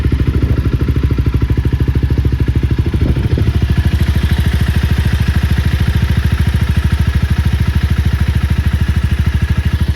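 A Honda CBR 250R motorcycle engine runs steadily at idle through its fitted exhaust, giving a close, loud, even throbbing pulse with a faint clatter and no break throughout.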